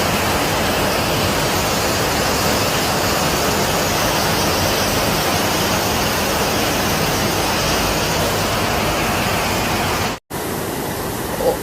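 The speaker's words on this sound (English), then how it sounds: "而家鼎湖山崩咗，沖啲水落嚟" Floodwater roaring down after a collapse on Dinghu Mountain, China, surging through flooded streets: a loud, dense, unbroken rushing wash that holds steady, drops out briefly near the end, then resumes.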